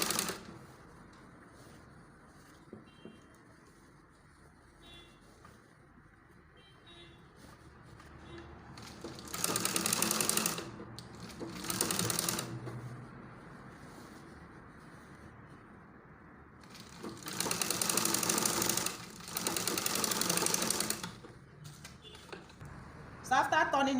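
A sewing machine stitches a turtleneck collar in several short, clattering runs of a few seconds each, separated by quieter stretches where a person talks.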